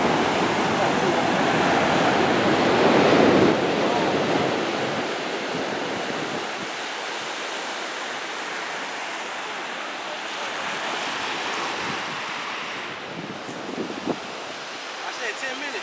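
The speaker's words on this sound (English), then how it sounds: "The waves is real." Ocean waves break on a beach in a continuous broad roar, loudest early on and then settling into a steady wash with some wind noise.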